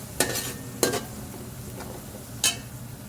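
A spoon stirs pulao masala paste with green chilies in a frying pan, producing three distinct scraping strokes spaced apart over a soft continuous sizzle.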